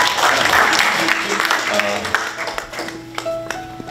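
Audience applause at a Korean community sports association's fundraising 'support night' for the Seattle games, with dense clapping at first that thins out, steady tones and a few taps behind it.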